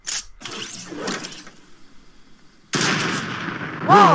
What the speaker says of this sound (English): Whoa! I almost shot you.